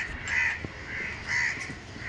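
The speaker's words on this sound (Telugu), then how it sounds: "కాకులు అరుస్తున్నాయి, కాకులు ఎక్కువే ఉన్నాయి కదా." Crows cawing near a village terrace, several harsh caws repeating in bursts over a quiet outdoor background, with no talk.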